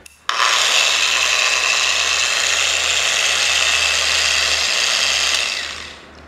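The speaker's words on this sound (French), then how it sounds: "Vous pouvez entendre un bruit comme si le moteur tombait en panne." A Bosch GWS angle grinder motor starts abruptly and whirs with a loud, harsh rasp, as if sputtering and failing, holding steady before winding down at the end.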